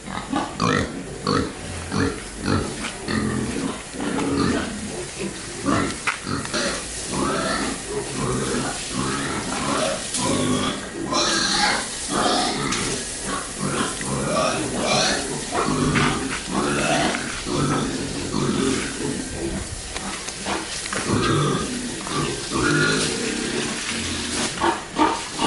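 Pigs grunting and squealing in a clean farm pig pen in Bali, a steady crowded chorus of overlapping close grunts throughout with no speech.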